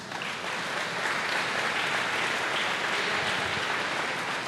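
A church congregation at a religious congress breaks into loud, sustained applause, a dense, continuous wash of many hands clapping that fills the hall without pause.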